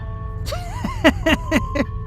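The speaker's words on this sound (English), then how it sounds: "Ice cream trucks arrived." A short, tinny jingle melody with bright repeating notes, like an ice cream truck's chime, playing over a low background hum.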